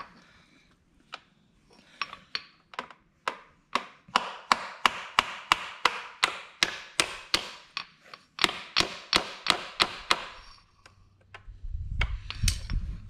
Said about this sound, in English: go ahead and nail it into place.